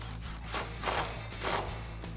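A ratchet with an 11mm socket tightens a nut during a front leveling kit install on a 2014-2018 Silverado or Sierra, giving a few short bursts of close, dry clicking strokes over a low steady hum.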